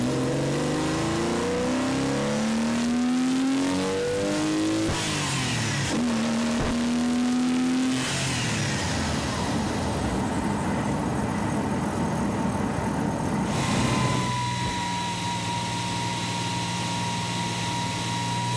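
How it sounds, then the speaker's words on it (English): Porsche 996 with a Hartech engine doing an in-gear acceleration pull, recorded by a microphone at the rear near the exhaust; the engine note climbs repeatedly through revs, dips at shifts, then settles to a steadier drone. "each car doing a pull with a microphone placed at the back of the car, so you'll be able to hear the differences in the exhaust setups"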